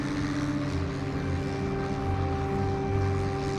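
Propeller aircraft engine droning steadily in flight in the Xbox 360 combat game IL-2 Sturmovik: Birds of Prey, a continuous tonal hum with no voices.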